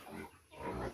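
Pet pigs give two short, rough grunts close by, separated by a brief pause.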